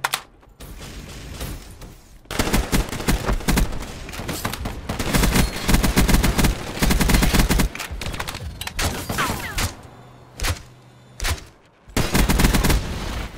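Rapid automatic bursts from a sentry gun in a video game, loud close volleys of gunfire broken by short pauses and mechanical clanks.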